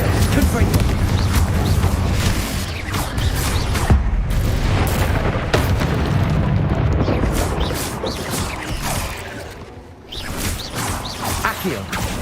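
Spell blasts from Confringo and Incendio in Hogwarts Legacy burst out as loud booms and whooshing crashes, one after another over a dense game soundscape, while a voice calls out spell names throughout.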